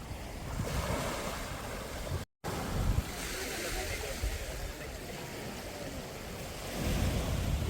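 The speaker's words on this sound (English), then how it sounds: "And you hear the ocean every day." Ocean surf rolls onto a tree-lined beach at Crystal Bay on Koh Samui as a continuous broadband wash with steady wind rumble against the microphone, fairly loud and close.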